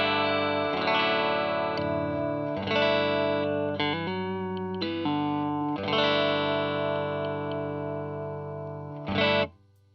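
Electric guitar played through a 1960s Gibson GA-5 Skylark amp on a clean setting, breaking up into mild distortion: sustained chords and strummed phrases, close and steady, ending in a louder burst.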